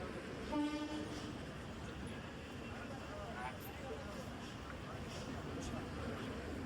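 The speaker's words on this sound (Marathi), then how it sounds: "फायनली मित्रांनो आमची ट्रेन पण निघाली" A train pulling out of a station on the Mumbai–Konkan route to Kankavli, its steady low rumble and rolling wheels carrying on under people talking, with a brief horn-like tone early on.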